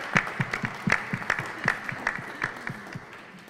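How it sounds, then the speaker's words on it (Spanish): Applause at a WWE press conference in Mexico, announcing events, after a wrestling diva is introduced: a small crowd claps in uneven, sparse bursts that thin out over a few seconds. "Un aplauso, por favor."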